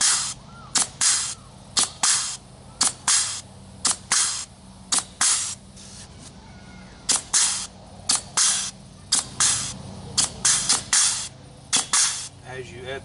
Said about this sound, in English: get it popped on, and rotate this wheel, and slowly add your grease.